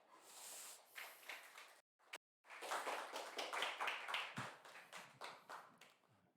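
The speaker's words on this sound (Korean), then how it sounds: "우리 선교사님 나오실 때 우리 박수로 환영하겠습니다" A crowd claps together in a sustained burst of applause, briefly breaking off before resuming louder and continuing steadily.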